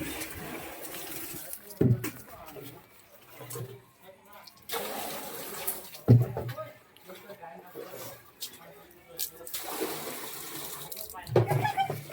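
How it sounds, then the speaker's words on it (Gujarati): Water from a tap fills a container for bathing, heard as brief splashing gushes that come and go between stretches of people talking at home. "તો નાવું આમ પાણી ભરવું પડશે"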